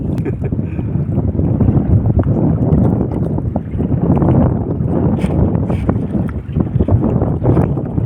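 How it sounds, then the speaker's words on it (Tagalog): Strong, steady wind roars and buffets the microphone continuously, with low rumbling gusts and faint water sounds from a boat, no voices. "Balik na naman yung hangin, malakas."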